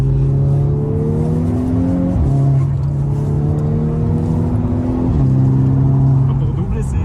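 A Volkswagen Golf 6 R pulls hard to overtake, its engine note rising steadily through two gears with brief dips at each shift, loud and close from inside the cabin while people talk over it.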